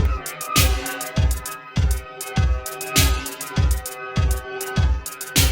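A HeadStack multi-head tape delay set to high feedback repeats a percussive, pitched pattern, stacking regular echoes in a steady loop that keeps blooming without decaying away.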